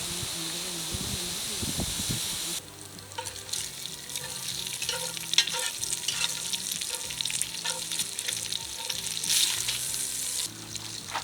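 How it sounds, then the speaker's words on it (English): Half a pound of chopped bacon frying in a Dutch oven, a steady close sizzle and crackle with occasional stirring and scraping noises throughout. "I love the smell of cooking bacon"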